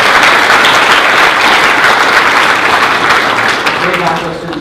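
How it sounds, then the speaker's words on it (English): An audience at a city's State of the City address claps in a steady round of applause for members of the public art commission, the sound dense and sustained, tapering slightly toward the end. "I'd also like to give them a round of applause and to wish them luck."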